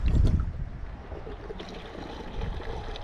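Gasoline pours into a Ford Ranger's fuel tank in a close, steady gurgling trickle, a bit louder at the start and then flowing evenly.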